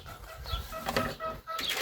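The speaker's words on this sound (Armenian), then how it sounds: "Տեսնեմ հավերը զույգ չունեն։" Farmyard chickens cluck softly in short, broken calls at a moderate distance, with a few brief louder bursts.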